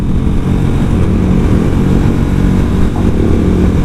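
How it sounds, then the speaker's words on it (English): A Ducati Diavel motorcycle engine rumbles loudly and steadily up close, a deep throbbing exhaust note that holds without letting up. "absolutely gorgeous Diavel with that ridiculously beautiful rear wheel and exhaust. And the sound."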